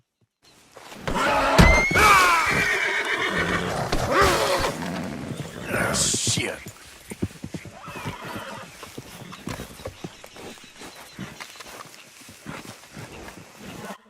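Horse whinnies and clip-clopping hooves from a Dark Bay Turkoman horse in the video game Red Dead Redemption, loud and close, with a sharp neigh early on, then scattered hoof and movement sounds; someone briefly speaks.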